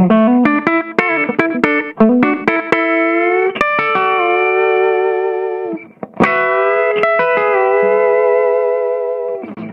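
A Gretsch 6130 Roundup electric guitar played through an effects unit: quick picked notes and chords with sustained, ringing tones, loud and close, with distortion and a chorus-like shimmer and no talking.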